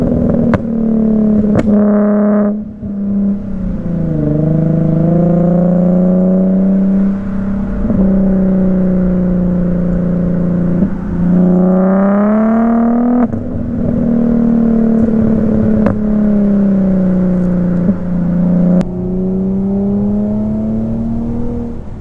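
An Infiniti Q50 3.0t with traction control off accelerates hard, its engine note climbing loudly through several gear pulls with brief dips at the shifts, close and continuous.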